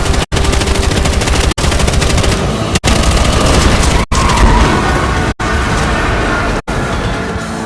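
Sustained automatic gunfire in Battlefield Hardline aimed at a pursuing car during a prison escape chase, a loud continuous rattle of rapid shots broken by several brief pauses, with no talking.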